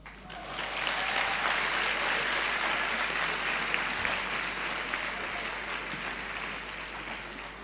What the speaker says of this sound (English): I thought you would be clapping for him better